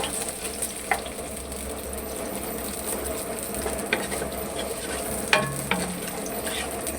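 Whole spices, including black cardamom and a piece of cinnamon, fry in hot oil in a pot for Kabuli pulao, giving a steady soft sizzle with a few faint clinks and scrapes of stirring.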